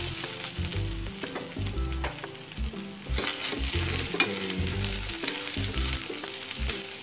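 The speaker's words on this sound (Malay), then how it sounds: "Untuk masak nasi goreng ni." Steady sizzling of nasi goreng (fried rice) frying in a hot pan, with repeated scraping and stirring knocks from a utensil, close and continuous, no talking.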